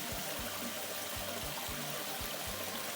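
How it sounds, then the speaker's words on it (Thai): Steady rushing flow of water near a rock-crab trapping spot in the hills, a dense, continuous wash heard close, with faint low thumps underneath and no voices. "น้ำไหล"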